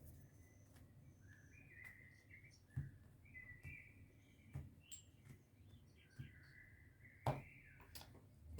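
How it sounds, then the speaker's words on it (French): Small birds chirp and whistle in short, scattered calls at a moderate distance, with a few sharp nearby clicks or taps and a low background rumble; no one speaks. "Qu'est-ce que ça fait du bien d'entendre les petits oiseaux?"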